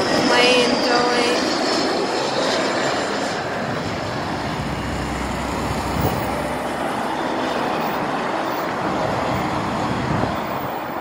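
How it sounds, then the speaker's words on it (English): An airplane roars overhead, its engine rumble loud at first and then slowly fading as it passes, with traffic noise underneath. "We have a plane going."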